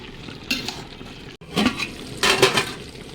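Scraping and clattering of a spoon stirring cumin, coriander and curry powder in a pot, in a few uneven bursts with a faint sizzle underneath, close by.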